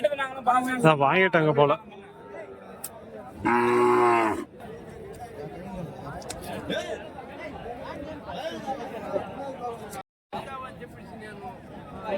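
Calves for sale at the Kundarapalli Friday cattle market in Krishnagiri district, with several loud, close moos, one long and sustained, over steady crowd chatter and people talking.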